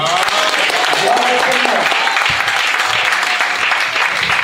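A church congregation at a worship service claps and cheers for Jesus, with loud, dense applause running throughout and voices mixed in over it.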